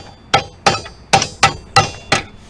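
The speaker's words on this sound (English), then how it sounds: "I just like hammering everything." Six sharp hammer blows ring out on metal at an even, brisk pace while a rear spindle is freed from a 1990–1993 Honda Accord, each strike loud and close with a short metallic ring.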